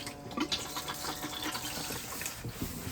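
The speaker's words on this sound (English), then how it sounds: "on here is the blue button which flushes the toilet, so press that" A toilet in a Bailey Approach 635 caravan flushes with a steady rush of water and pump noise, close and fairly loud, with no talking.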